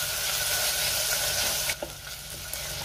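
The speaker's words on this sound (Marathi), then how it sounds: "टोमॅटो सुद्धा मी 2 मिनिटं व्यवस्थित परतून घेणार" Tomatoes sauté in a pan for dal with a loud, close, bright sizzle that abruptly softens partway through, while a spatula stirs with a few light scrapes.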